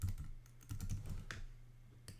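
Fingers typing a username and password on a computer keyboard, a quick irregular run of close, quiet key clicks with a short pause and a couple of isolated taps at the end.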